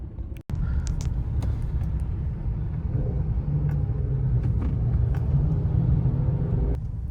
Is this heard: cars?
yes